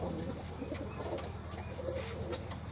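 Pigeons coo softly in a pigeon loft on a Rajshahi farm keeping colourful ghonobaji flying pigeons; a low, continuous murmur of overlapping calls with no voices.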